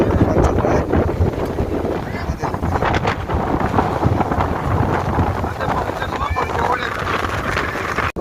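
Strong wind gusting at a snowy mountain wedding gathering outdoors, roaring steadily as a loud, continuous rush of wind noise over the microphone, with voices and other faint background sounds mixed in.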